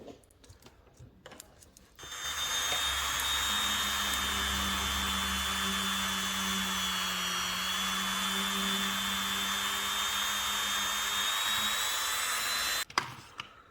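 A polishing wheel spins up and buffs metal lock picks with compound, giving a steady loud whine and hum for about ten seconds before winding down, with clatter at the start and end.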